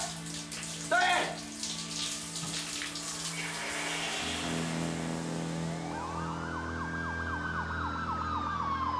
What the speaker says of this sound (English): You could hear sirens all over the valley.